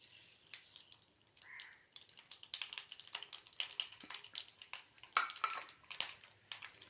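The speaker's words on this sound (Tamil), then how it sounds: "கடுகு நல்லா பொரிஞ்சு வந்துடுத்து" Mustard seeds spluttering in hot oil in a kadai over a low flame, with quiet, scattered crackles and pops that grow busier toward the end and no voices.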